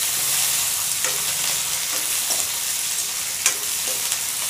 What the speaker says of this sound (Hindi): प्याज को थोड़ी भून लेंगे कलर चेंज होने तक।